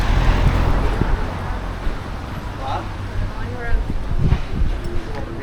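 Strong breeze buffets an unshielded mic outdoors at a seaside resort, a steady low rumble with gusts swelling and easing throughout, with faint traffic in the distance and someone talking over it.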